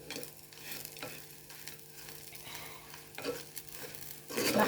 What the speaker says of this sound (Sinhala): මේක කරපස් ගන්නවා.